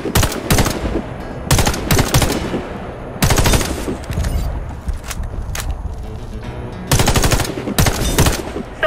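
Scoped weapons fire at targets in the Warface video game on PS4 Pro, with loud automatic bursts repeating in four or five separate volleys and short pauses between them, plus quieter mechanical clatter in the gaps. No speech.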